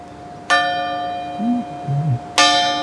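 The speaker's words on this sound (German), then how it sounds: "Und das war die mittlere Glocke vom alten Glüt." Middle bell of an old church peal rings out in two loud, ringing strikes, the first near the start and the second near the end, each followed by a long, shimmering decay, with a faint low murmur between them.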